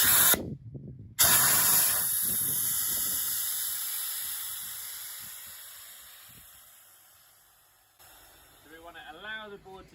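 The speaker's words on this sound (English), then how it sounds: "There is quite a loud noise and the air comes out quite forcefully" Compressed air bursts loudly from the valve of an inflatable paddleboard, a forceful steady hiss that slowly tapers off over several seconds, with a brief voice near the end.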